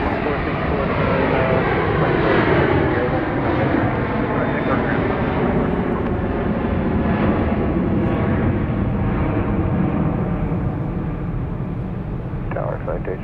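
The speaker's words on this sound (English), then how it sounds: "Flight 1059 going to Denver, Colorado," A Boeing 737-700 jet on Southwest Flight 1059 to Denver at Dallas Love Field Airport at night, a loud, steady, continuous roar with muffled voices mixed in.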